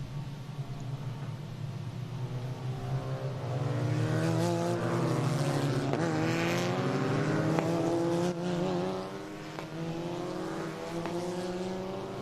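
Race cars lap the VIR circuit, their engines droning with rising and falling pitch as they approach and pass, growing louder in the middle, with no voices.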